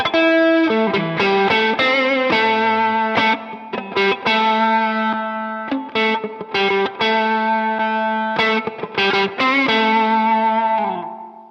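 Overdriven electric guitar through a Walrus Audio Mira compressor into an SD1 drive pedal, a longer loud phrase of picked notes and chords with even, sustained tone and distinct attacks, no voices.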